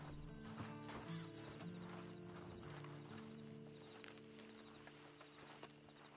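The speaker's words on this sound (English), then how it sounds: "Then you better get on this horse." A horse's hooves clip-clop in a PS4 video game, faint and steady beneath a low background hum.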